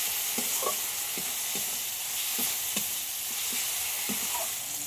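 Spice paste frying in oil in a pan as salt and turmeric powder go in, for a masoor dal with fish head; a steady close sizzle with repeated spoon scrapes and stirring strokes, no talking.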